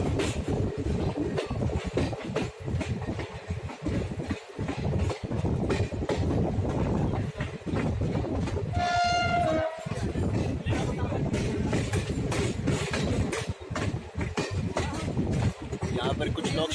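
The Chetak Express arrives at Pataudi Road station with loud rumbling and clattering of the rail cars and a short squeal near the middle, while voices talk over the noise.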